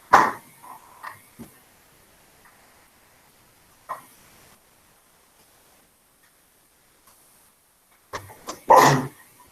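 A sneeze bursts out indoors in a classroom near the end, preceded by a couple of smaller sniffs and faint noises amid near silence.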